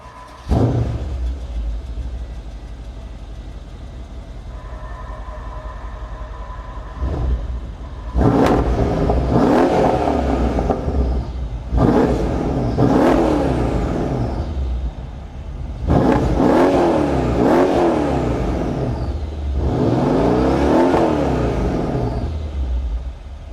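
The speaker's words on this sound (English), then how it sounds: "let me take you around to the back so you can listen to what this V8 sounds like" A Mercedes-Benz CL63 AMG V8, heard from behind the car at the exhaust, settles into a deep idle, then gives several loud, sharp revs that swell and fall back, each separated by a short rumbling pause.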